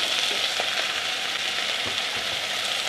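Onions and garlic frying in a pan with brown sugar added, giving a continuous close sizzle with scattered small crackles and no talking.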